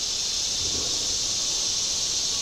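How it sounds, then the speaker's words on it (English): A steady, high buzzing drone of dog day cicadas in Pennsylvania trees fills the air continuously, even and unbroken, with no other sounds. "cicadas are singing this time of year."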